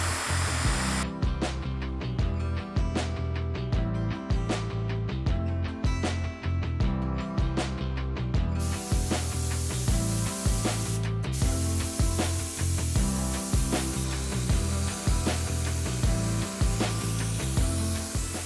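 A cheap paint spray gun with a 2.5 mm tip and a regulator sprays latex paint onto wooden dining table benches, giving a steady, loud hiss with a rhythmic pulsing pattern for the whole stretch and no talking.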